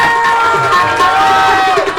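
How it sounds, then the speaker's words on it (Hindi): Worshippers at an evangelical church Sunday meeting cheer together loudly and close by, with sustained shouted voices rising and falling through a brief burst. "जोरदार ताली बजाते हुए हालेलुया का नारा भी मारेंगे"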